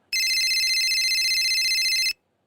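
A phone ringtone for an incoming call sounds loud and steady, a shrill, buzzing electronic trill that runs unbroken for about two seconds before stopping abruptly into silence.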